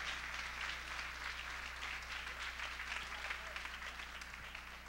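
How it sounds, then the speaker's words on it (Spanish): Applause for a band at a live event, soft and distant, a steady wash of clapping over a constant low electrical hum. "denle un fuerte aplauso por favor a la banda."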